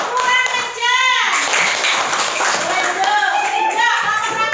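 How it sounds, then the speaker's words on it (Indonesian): Children in a classroom clap for group 3, a brisk burst of hand claps mixed with kids' voices and chatter, close and fairly loud. "Kasih tepuk tangan buat kelompok 3."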